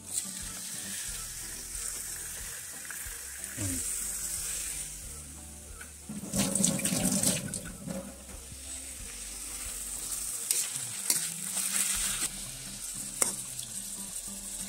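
Chicken meat dropped into a pan of cooked onions and tomato, sizzling and frying steadily with stirring scrapes and a louder burst of hiss as the meat hits the hot oil.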